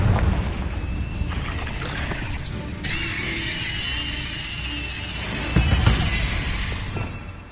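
Confringo blasting spell going off in Hogwarts Legacy, a low booming burst followed by a fiery hissing crackle, with another deeper thump a few seconds later amid game ambience, no speech.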